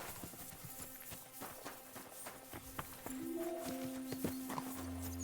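Horse hooves clip-clop in Kingdom Come Deliverance 2, a soft, irregular walking beat at moderate distance under ambient game sound with occasional tonal hums and faint background noise.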